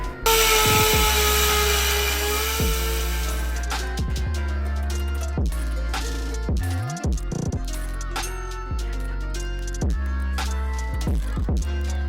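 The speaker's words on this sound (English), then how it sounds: "I'm gonna actually take my sander, DA sander, this 80 grit piece of sandpaper on here, and just go over the edges and just smoothen it out" A DA sander fitted with 80-grit sandpaper whines steadily and loudly up close, smoothing the edges of a panel in a garage, its pitch dipping and rising as the pad is pressed and lifted.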